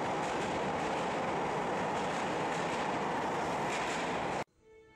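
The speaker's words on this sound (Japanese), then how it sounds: "電車乗っていきます。" Interior of a suburban train in Hokkaido rolling along, with a loud continuous rumble and wheel noise that cuts off abruptly near the end.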